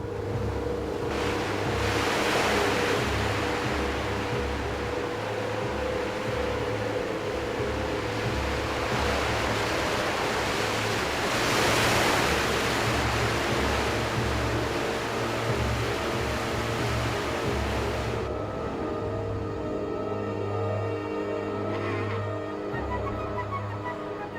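Ocean surf pounds continuously off a sea lion coast, a loud, rolling wash of breaking waves with a deep rumble, steady throughout with no voices.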